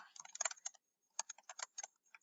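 Two quick bursts of typing on a computer keyboard sound close and crisp, with a short pause between them and no voices.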